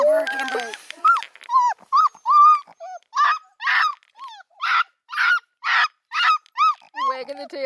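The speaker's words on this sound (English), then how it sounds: "Wagging the tail and barking." Coonhound puppies bark and yelp in a quick string of loud, high, honking cries, close and clear with short gaps between them.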